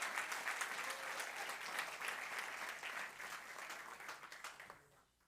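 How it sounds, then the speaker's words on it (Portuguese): Strong, steady applause from a church congregation fills the room for about five seconds, dense and continuous, then fades out quickly at the end. "dê um aplauso forte para o Senhor Jesus."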